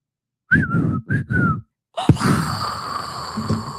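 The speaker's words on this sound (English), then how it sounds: "my mom can't even believe I got a whistle out of my mouth" A person whistles a short, clear two-note phrase, then a sharp breath or gasp follows with a lingering noisy tail.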